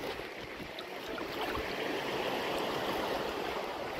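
Steady broadband rush of clear river water flowing through Green Canyon at Cijulang, a continuous close wash with no pauses or voices.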